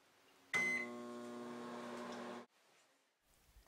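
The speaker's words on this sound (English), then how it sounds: "Then we will microwave the soap for about 40 seconds." Microwave oven hums steadily for about two seconds while melting chunks of glycerin soap in a measuring cup, starting abruptly and cutting off cleanly, close and quiet.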